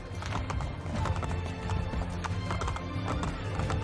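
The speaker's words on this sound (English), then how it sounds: "So now we have a horse." Horse hooves clip-clopping at a gallop with a neigh in Assassin's Creed Brotherhood, rapid rhythmic hoofbeats over game ambience, close and steady.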